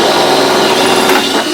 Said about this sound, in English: So I'm going to start out by drilling out all the rivets.